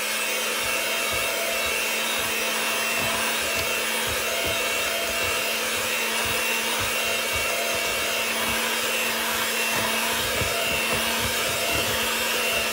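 Electric hand mixer whirring steadily through cake batter in a home kitchen, a continuous buzzing motor drone with scraping texture, close and fairly loud, no talking.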